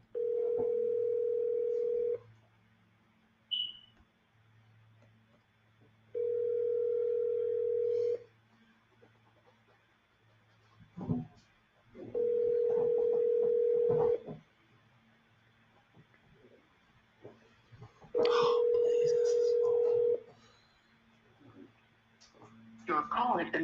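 An unanswered phone call rings back in four evenly spaced long tones heard over the line, with brief sounds and faint voices between rings.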